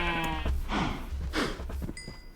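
Minecraft sheep bleating inside a farm animal pen that also holds cows, with several wavering in-game bleats one after another over a steady game soundscape.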